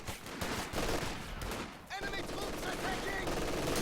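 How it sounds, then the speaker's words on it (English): MG42 machine guns rattle in a video-game battle, rapid bursts of close-range gunfire crackling continuously, with a brief dip midway before the firing resumes, and a commentator's voice faintly underneath. "This MG42 at close range dices up that rifle squad."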